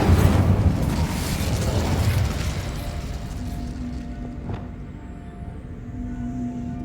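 A fire spell cast in Hogwarts Legacy, a roaring, whooshing burst of flame at the start that trails off into a quieter crackling, hissing tail with faint ambient tones.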